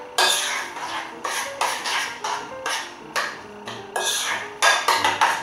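Pepper grated over a pumpkin lasagne casserole and then stirred, making a run of close, rhythmic scraping and clinking bursts, with a spoon knocking against the dish in irregular strokes.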